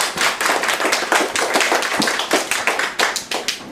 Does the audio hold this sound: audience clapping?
yes